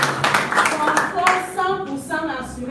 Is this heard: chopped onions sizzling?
no